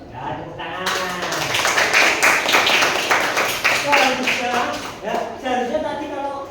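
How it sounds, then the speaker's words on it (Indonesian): Audience clapping at the close of a question-and-answer session, a mix of individual claps and scattered taps that builds after a second and carries on, with voices talking over it throughout. "tepuk tangan"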